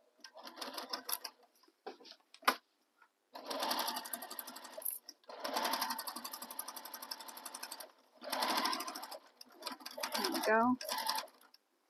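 A sewing machine stitches down the full length of a Minerva tote bag in several close bursts of rapid needle chatter separated by short pauses, with a brief spoken remark between runs.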